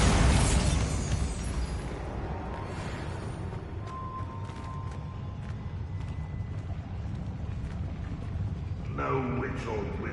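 A Bombarda blast spell in Hogwarts Legacy erupts with a loud opening boom, then settles into a lingering rumble and scattered debris clatter, fading slightly before a brief burst of other game sound near the end.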